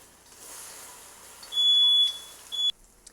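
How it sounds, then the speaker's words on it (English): A smoke alarm goes off in a kitchen while tofu is frying, giving a shrill electronic tone held for about half a second, then a shorter second beep, over quiet background. "Yes, the fire alarm did go off"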